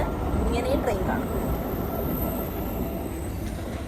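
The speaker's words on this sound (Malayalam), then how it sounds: "അപ്പം നമ്മൾ പിന്നെ ഇങ്ങോട്ട് വന്ന് ട്രെയിൻ പോകുന്നു." A train rumbles past close to a room, a continuous heavy roar with faint wheel squeal, while people talk over it.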